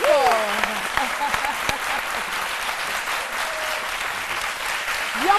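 A French television studio audience claps loudly and steadily to welcome a guest onto the set, a dense continuous round of applause with some voices and whoops mixed in.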